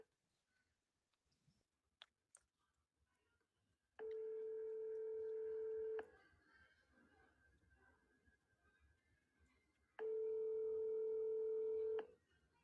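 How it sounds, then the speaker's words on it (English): Phone call to a Minnesota childcare center's number: after a couple of faint clicks, two long steady ringback tones sound about six seconds apart, each lasting around two seconds, clear and close over quiet line hiss. "listen to where this phone number goes to when you call this childcare center"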